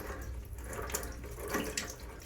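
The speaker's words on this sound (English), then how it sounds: "let the excess drip into our bucket or cup or bowl or whatever you have" Water runs and trickles from a loosened toilet supply line into a bucket, a steady close splashing stream with a few brighter drip accents and no talk.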